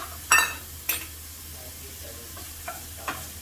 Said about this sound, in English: Just gonna stir it around so that it gets cooked evenly